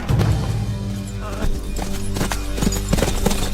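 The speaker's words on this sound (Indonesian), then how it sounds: "Ia dikejar oleh pasukan berkuda sampai memasuki hutan." Horses of mounted troops chase a rider into a forest in a film scene. Their hooves sound in steady clip-clop beats over a film soundtrack, with faint voices now and then.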